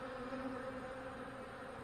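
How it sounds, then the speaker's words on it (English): Honey bees on a hive frame make a soft, continuous buzzing hum during a check of colony growth, steady and fairly faint throughout, with no voices. "And that frame was covered in bees."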